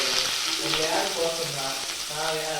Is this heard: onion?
yes